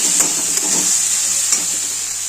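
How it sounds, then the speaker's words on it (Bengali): Food fries in an uncovered pan in a home kitchen and is stirred, a steady bright sizzle broken by a few soft scraping stirs, close and with no talking. "ঢাকনাটা খুলে ওখানে হালকা নাড়িয়ে নাড়িয়ে চাড়িয়ে নেবো"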